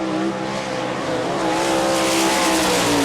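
A World of Outlaws sprint car at speed on the Rossburg, Ohio dirt track, its loud engine roaring steadily and close for the whole stretch, with a rising whine as it runs the lap.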